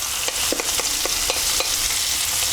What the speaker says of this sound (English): We want to caramelise these onions, so this is going to take about 7 or 8 minutes, if not longer.